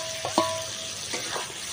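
Fried sea crab being stirred into a frying masala, a low sizzle with a couple of quick spatula scrapes and clinks at the start and softer stirring after, close and brief.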